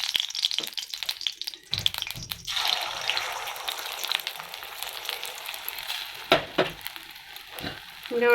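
Hot oil hisses and sizzles steadily in a frying pan where puffed egg fritters are cooking, with a few sharp clatters of a utensil against the pan partway through; no one speaks.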